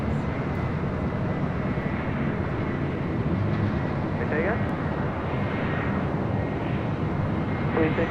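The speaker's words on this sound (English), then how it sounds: "This is Delta Airlines 908 coming in from Detroit on an A321." A Delta Airlines Airbus A321 arriving at LAX from Detroit produces a continuous broad jet roar, heard at a distance against busy airport background noise.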